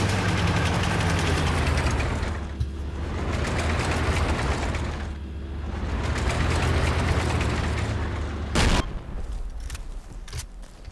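Enemy tank engine in a video game, a steady heavy low rumble that swells and fades over several seconds, with a sharp bang near the end, loud and continuous with no talk.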